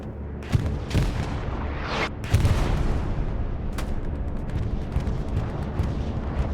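Bombing run in the video game Hell Let Loose, heavy rumbling explosions with several sharp booming impacts over a continuous low roar, loud and sustained with no talk.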